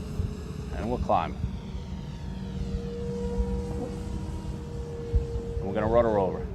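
An E-flite Super Timber RC airplane with a 1.7 m wingspan makes a knife-edge pass, its thin, steady buzzing motor whine carrying throughout while someone talks briefly at the start and end.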